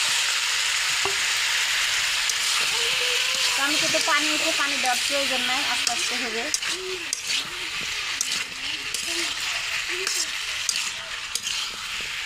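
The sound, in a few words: raw tomatoes frying with dried fish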